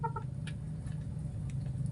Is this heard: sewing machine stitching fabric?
no